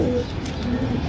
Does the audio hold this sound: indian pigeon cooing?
yes